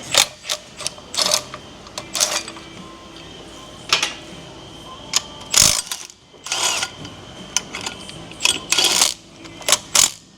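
Metal tool clicks and clanks while a pulley is worked off a Duramax LBZ 6.6 diesel engine during a teardown, with a close, irregular run of sharp ratcheting and tapping bursts and short pauses between them.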